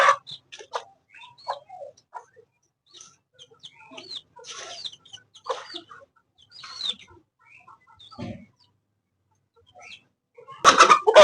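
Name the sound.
hen and chicks clucking, hen chasing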